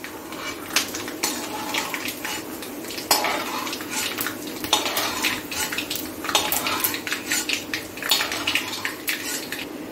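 A metal spoon scrapes and clinks repeatedly in a pan while roasted peanuts are moved into another pan, a steady run of close stirring and scraping sounds without speech.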